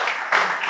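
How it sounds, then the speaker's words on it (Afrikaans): Brief burst of audience applause at a comedy show, a dense wash of clapping that swells partway through. "Geef hom 'n lekker aan klap."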